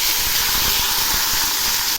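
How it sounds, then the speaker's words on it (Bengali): Rohu fish pieces hiss and sizzle vigorously in hot mustard oil in a kadai, a dense, steady, close frying sound with no talk. "তেল গরম হয়েছে, এবার আমি মাছগুলো ছেড়ে দিচ্ছি।"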